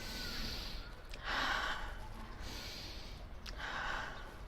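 A speaker demonstrates deep breathing with a couple of slow, close breaths, each a breathy rush of air rising and falling, with soft gasping inhales between them.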